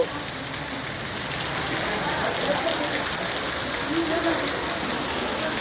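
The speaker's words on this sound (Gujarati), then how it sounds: "મિત્રો આપ જોઈ રહ્યા છો તીવ્ર વરસાદ અત્યારે અનરાધાર પડી રહ્યો છે" Heavy torrential downpour over Wankaner, with water pooling into a courtyard and house, forms a steady, dense broadband hiss of rain on surfaces that stays loud and constant throughout, with no talk.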